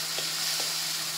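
Parsley sizzles in a hot frying pan while it is stirred, giving a steady bright crackle with a couple of soft scrapes from the stirring.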